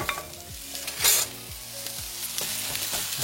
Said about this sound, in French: Je vais mettre mes oignons.